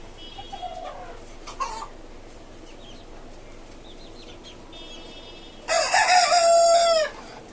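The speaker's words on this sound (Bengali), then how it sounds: "এই হচ্ছে পাঁচতলা বাড়ির উপর খাঁচা বিশিষ্ট আমার একটি শখের মুরগির খামার দেশি মুরগির খামার" Native desi chickens in a caged rooftop farm, with scattered soft clucks and short calls, then a loud rooster crow near the end, all close with no talking.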